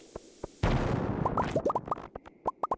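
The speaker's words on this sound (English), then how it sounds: "This is the perfect opportunity for a mega bomb." A mega bomb going off in a Stardew Valley mine: one sharp, loud blast, then a scatter of clattering rocks and small popping debris pings that taper off, with no voices.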